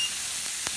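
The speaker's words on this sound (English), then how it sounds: "now this is starting to boil" Water coming to a boil in a pot on a stove gives a steady bright hiss with a couple of faint pops.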